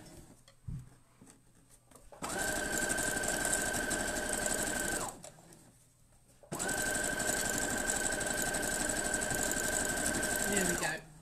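Sewing machine stitching the last seam of an Illusion patchwork quilt block, running in two steady bursts of even mechanical whirring separated by a short pause, close and clear.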